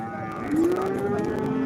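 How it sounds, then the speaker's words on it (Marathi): A cow moos once in a long, low, drawn-out call at a busy livestock market, loud and near over a background of crowd murmur. "गाय बाजारात येते बघा"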